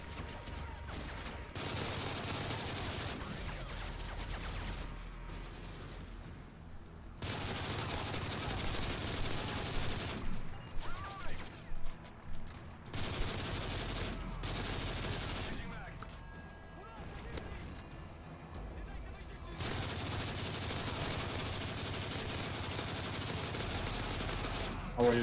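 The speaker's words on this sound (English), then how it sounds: "How are you shooting the LMG from down?" Bursts of LMG fire in Call of Duty MW3 co-op survival come as sustained rapid volleys with pauses between them, and voices talk over and between the shooting.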